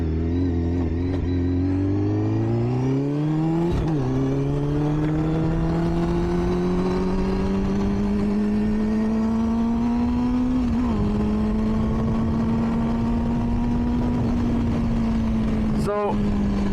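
A 2005 Triumph Daytona motorcycle engine revs while riding, its steady harmonic drone rising in pitch through gear changes and holding high, loud and close throughout.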